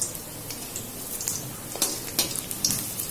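Potato pakoras frying in oil in a wok over medium heat, a faint, steady crackle with a few sharper pops breaking through.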